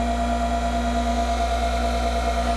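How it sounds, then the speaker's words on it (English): An old Sioux model 660 valve grinder runs with a steady, unbroken motor whine and hum, close and constant throughout with no pauses. "let's hear an old Sioux valve grinder run"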